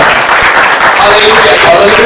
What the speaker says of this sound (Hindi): और ये जगह है जहाँ पे आप ताली बजा सकते हो